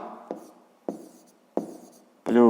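Chalk or a pen taps and scratches out a math exercise in short strokes, with three distinct strikes trailing off, before a voice begins speaking at the end.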